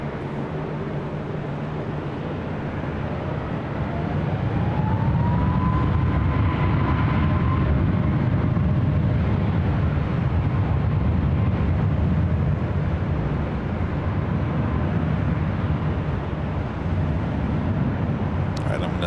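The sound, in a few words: Southwest airliner taking off at LAX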